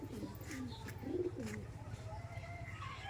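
Pigeons cooing at a loft among greenery, soft low rolling coos repeating near the start and middle, fairly faint beneath a steady background hum.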